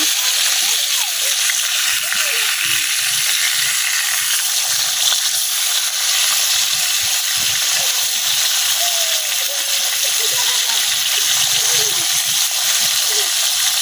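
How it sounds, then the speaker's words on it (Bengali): Rohu fish fillets sizzle in hot oil in a village kitchen, a steady broad hiss with small crackles and spatters running continuously, with faint talk from the cook underneath. "মাছটা কিন্তু এক পাশ ভাজা হয়ে গেছে, আমি আরেকটা উল্টায় দিতেছি।"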